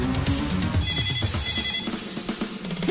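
A phone ringtone plays steadily for about three seconds, a repeating electronic melody with a bright tonal pattern, fairly close and clear.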